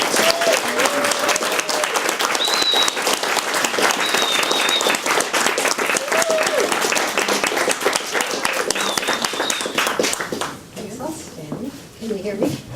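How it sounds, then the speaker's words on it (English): Steady, loud applause from a bookstore audience fills the room after a reading introduction, with scattered voices and a few whoops over the clapping before it thins out at the end. "please join me in giving both of them, and especially Nina, a very, very loud round of applause"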